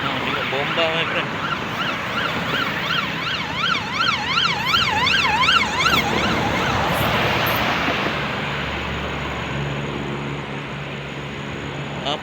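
A Bomba fire engine siren arrives at a hillside house fire in Kampung Baru, Jalan Duta, Bundusan, blaring a rapid warbling yelp mid-clip over windy outdoor noise, with voices around it.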